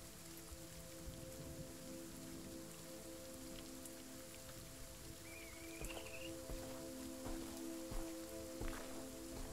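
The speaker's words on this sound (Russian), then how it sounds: "Какой прекрасный дождь," Soft, continuous rainfall in the indie horror game Visage, a faint steady hiss of drops with a few scattered louder patters, heard alone.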